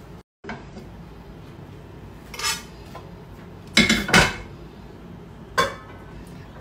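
Minced meat filling being spread into a tray of kibbeh: close metallic clinks and scrapes of a spoon against the tray, occasional louder knocks over a quiet background, no talking.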